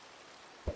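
Rain falls in a modded Minecraft world as a steady, soft hiss with no talking. One low thud comes right at the end.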